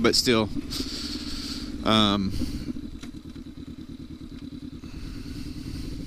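Honda CB500X adventure motorcycle idling and pulling through a slow turnaround on a ride in Montana, a steady close engine throb with a rhythmic pulse, someone speaking briefly over it near the start.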